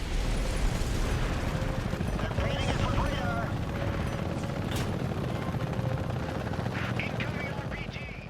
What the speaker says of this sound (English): Now the Apache is a tandem seat helicopter for a crew of 2 pilots.